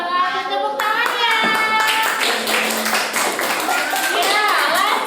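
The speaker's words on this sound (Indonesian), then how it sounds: "Tepuk tangannya." An audience of children clapping their hands at a school event, rhythmic hand claps mixed with singing or chanting voices and some tonal music-like sounds throughout.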